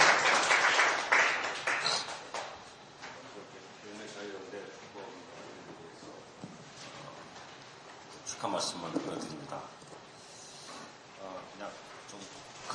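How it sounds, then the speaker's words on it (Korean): Applause from an audience at a freedom-of-expression forum, strongest at the start and swelling again briefly near the middle, with talk and room noise running underneath. "박수로 김진욱 변호사님 토론 듣겠습니다."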